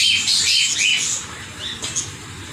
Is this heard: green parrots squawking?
yes